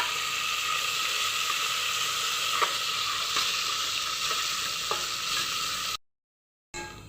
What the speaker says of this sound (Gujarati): ડુંગળી ઝીણી સુધારેલી રાખી હતી એ પણ એડ કરી દેવાની